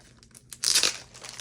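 Crinkly vellum paper and a sticker sheet from a scrapbooking subscription kit being handled, with a short burst of bright crackling and rustling near the middle that fades into quieter rustles, close and fairly soft, no talk.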